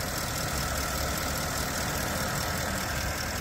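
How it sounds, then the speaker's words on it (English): A 2011 Porsche Cayenne S idles smoothly, a steady even engine hum with a broad noisy rumble that holds constant throughout, close and alone. "You can hear it's idling very smooth."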